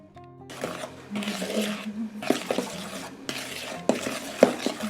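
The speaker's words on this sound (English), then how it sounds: "I'll mix here flour, cocoa powder, and baking powder." Flour, cocoa powder and baking powder being mixed in a bowl for a cake, with several bursts of brisk scraping and whisking strokes against the bowl, close and moderately loud, separated by short pauses, with no voices.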